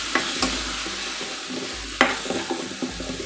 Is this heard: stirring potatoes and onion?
yes